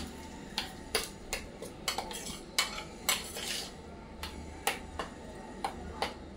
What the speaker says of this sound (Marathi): मस्त असं एकजीव करून घेऊया